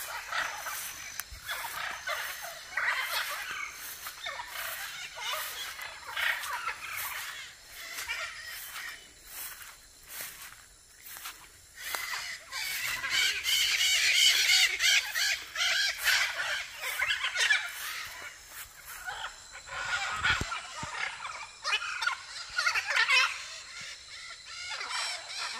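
Blue-and-yellow macaws, a pair on a farm in Brazil, give loud harsh squawks and raucous calls in repeated bursts throughout, fairly close and alone without speech.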